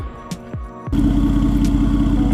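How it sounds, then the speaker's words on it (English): After a few light clicks, a vehicle's loud exhaust suddenly roars into a steady, deep, throbbing rumble close by. "I must apologize for the loud exhaust"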